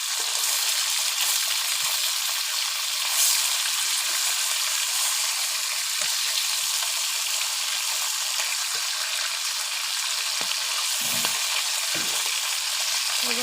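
Live tilapia fish fry in hot oil in a pan over a stove, giving a steady, loud, close sizzle with faint crackles throughout and no voices.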